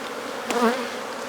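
Defensive honey bees buzz during a hive inspection, a brief close whine swelling past the ear over a soft background hum of the colony.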